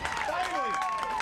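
Football crowd at a Jackson Broncs game reacting to a quarterback sack: a steady wash of stadium noise with rising cheers and whistle-like tones carrying throughout the short moment.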